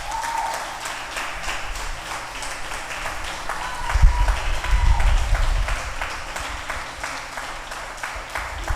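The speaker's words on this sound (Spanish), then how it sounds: "Denle un aplauso al Señor por eso" A church congregation breaks into applause during a sermon, with scattered clapping that swells into a louder burst midway before thinning out again, heard from within the room.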